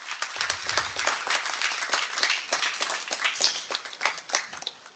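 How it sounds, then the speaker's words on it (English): Audience applause at a Harvard healthcare symposium: a dense, steady wash of many hands clapping that keeps going for the full five seconds, with no voices heard over it. "a big round of applause for everybody here"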